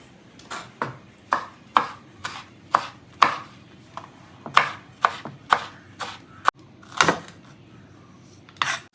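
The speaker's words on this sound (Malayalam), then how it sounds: "നമ്മൾ ഇഞ്ചി പൊടി പൊടിയായിട്ട് അരിയണം" Ginger and green chillies are chopped finely with a knife on a board in a home kitchen, producing a series of sharp, close knocks in an uneven rhythm, with no talking.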